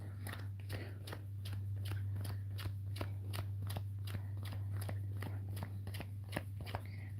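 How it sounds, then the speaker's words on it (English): A deck of Magic: The Gathering cards being shuffled, with quiet repeated crisp riffle snaps at a steady rhythm over a constant low electrical hum, close and fairly faint. "I am literally shuffling so hard I'm shaking the camera."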